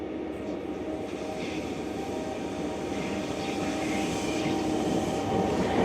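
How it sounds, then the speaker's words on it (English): A train on the Bernina mountain railway at Alp Grüm, Switzerland, rumbles past with a steady low roar and rattling wheels, growing slightly louder over several seconds. "after this train goes down, another train will go up again"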